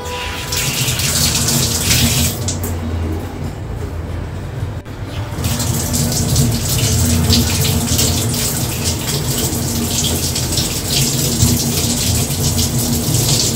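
Kitchen tap running water over chopped onions, a loud steady splashing rush close by, briefly easing and shifting midway before continuing strongly.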